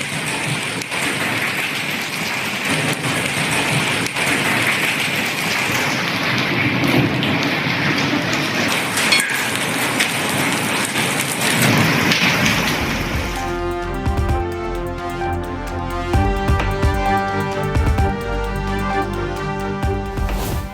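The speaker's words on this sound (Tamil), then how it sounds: "ஹரியானா மாநிலம் பானிபெட்டில் திடீரென கொட்டி தீர்த்த ஆலங்கட்டி மழை." A sudden hailstorm in Panipat, Haryana pours down as a dense, loud roar of hail and rain, continuous for about thirteen seconds before music takes over.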